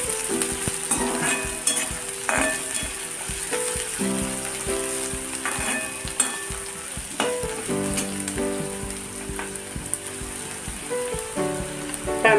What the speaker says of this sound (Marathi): टोमॅटो नरम होईपर्यंत हे परतून घेऊया चांगलं